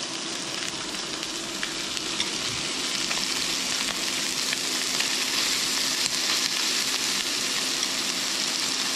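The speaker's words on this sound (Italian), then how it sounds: "adesso sentite come sfrigola, mettiamo i nostri tentacoli" Octopus tentacles sizzle steadily in hot olive oil in a pan, a loud, dense, continuous frying hiss that holds for several seconds with no voices.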